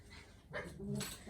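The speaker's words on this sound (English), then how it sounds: "I think you can hear my husband's dog Harlow in the background" A five-month-old puppy barks and whimpers in the background of a quiet indoor room, a few short yips and barks heard faintly at a distance.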